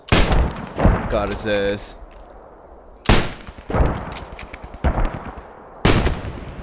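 Heavy gunfire in Post Scriptum, a World War II shooter, booms in several loud, close bursts with echoing tails, while a player speaks briefly between shots.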